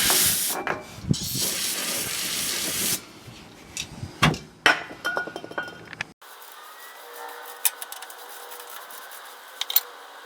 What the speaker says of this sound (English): Take a little brake cleaner and clean that up.